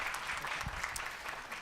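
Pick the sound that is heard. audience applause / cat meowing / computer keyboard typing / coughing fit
audience applause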